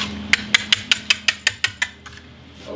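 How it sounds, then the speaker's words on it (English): Flour, salt and yeast are whisked together in a bowl, the whisk clicking against the sides in about nine quick, evenly spaced taps before the sound trails off. "I'm going to whisk it all together, so the yeast can start feeding off the flour."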